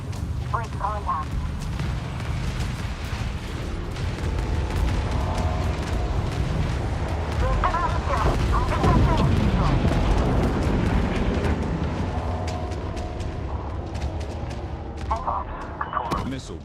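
Homeworld 3 space battle with a continuous dense rumble of weapons fire and booming explosions throughout, as radio-style voices talk over the din.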